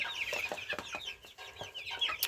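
Australorp chicks and chickens cluck and peep close by in a busy, overlapping stream of short calls, lively and continuous without talk.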